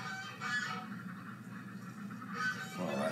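Waterfowl out at the front of a shed on a winter day give loud honking calls in two bursts, near the start and again near the end, over a steady outdoor hum.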